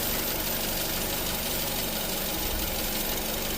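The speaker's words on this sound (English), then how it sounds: "you're also hearing the idle dropping" The engine of a 2009 Nissan Tiida with a misfire and rough idle runs close by, a dense, uneven rumble with a knocking pulse as the idle sags, and no one speaks.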